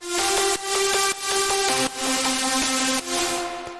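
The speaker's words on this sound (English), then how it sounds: "we have the synth lead playing the melody" A bright, buzzy synth lead from a heavy melodic dubstep track plays a melody of sustained notes that shift in pitch, with brief gaps between phrases and a loud, harmonically rich tone throughout.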